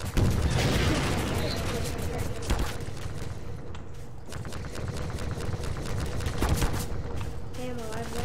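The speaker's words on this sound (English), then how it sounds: "I'm using the rocket launcher." Weapon fire from a rocket launcher in the game Garry's Mod, a dense, sustained barrage of blasts and bursts filling the whole stretch, loud and close, with game effects layered throughout.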